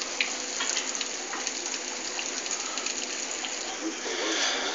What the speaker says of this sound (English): So I'll just put the eggs in.